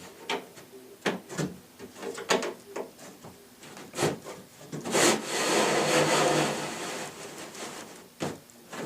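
A lazy Susan cabinet unit is worked down into its wooden channels with a series of scattered knocks and bumps, then a longer rubbing, sliding scrape, and a final knock.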